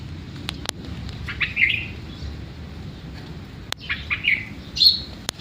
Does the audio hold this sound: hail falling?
no